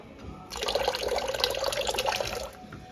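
Water running from a kitchen sink tap: a steady, close gushing splash that starts abruptly, holds at an even loudness and then eases off.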